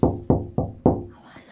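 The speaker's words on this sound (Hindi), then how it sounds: "हमें क्यों डरा रहे हो ठक ठक करके?" Four hollow knocks in quick succession, about a third of a second apart, from somewhere behind boxes where a rat may be hiding, fairly close and fading after the last knock.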